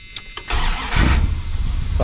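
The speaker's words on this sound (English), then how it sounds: "show you guys what it sounds like with the exhaust hooked up" A 1984 Dodge W150 pickup with a newly fitted exhaust cranks briefly, then catches and fires up into a loud, throaty idle, close by with no talk.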